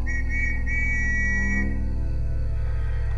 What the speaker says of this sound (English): maybe they are blowing the whistles to know that they are fine